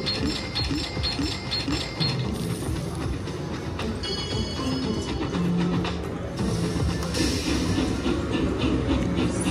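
An All Aboard slot machine train bonus fills the scene with a busy, continuous mechanical clatter and rattling of train sound effects, steady and loud throughout amid casino background noise.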